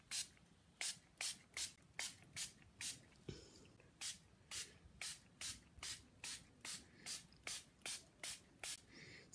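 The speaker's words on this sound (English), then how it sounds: "So I'm just going to use my spritz bottle and give them a big old spritz." A handheld spritz bottle sprays water over Cosmic Shimmer pixie powders in quick repeated hissing bursts, about twenty short pumps at a brisk, fairly even pace, heard close and alone.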